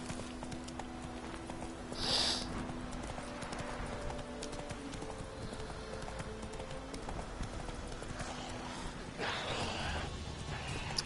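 Horse hooves gallop in The Witcher 3 video game, a steady, close clip-clop rhythm running throughout, with a couple of brief louder bursts partway through.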